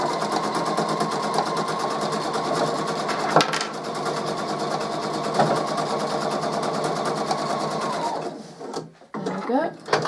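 A sewing machine runs steadily, stitching a quarter-inch seam, a close, rapid, even mechanical whir that continues for several seconds, then stops before a few soft handling clatters.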